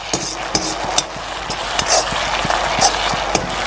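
Utensil stirring cornflour slurry and chicken sauce in a metal pan, with repeated sharp scraping clicks and taps against the pan at an irregular rhythm over a steady background hiss, close and fairly loud.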